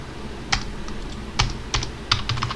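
Keys struck on a computer keyboard, four or five sharp separate clicks spaced irregularly over steady room hum, close and fairly loud, no voices.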